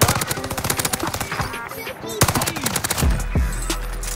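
Rapid bursts of automatic gunfire from a SCAR rifle in a shooter video game, dense and loud, with excited voices talking over the shots and a deeper low rumble toward the end.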